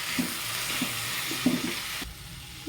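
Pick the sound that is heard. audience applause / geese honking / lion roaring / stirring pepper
stirring pepper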